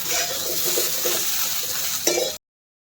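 Okra sizzles steadily in hot oil in a pan, a continuous close frying hiss with a brief utensil scrape near the end before cutting off.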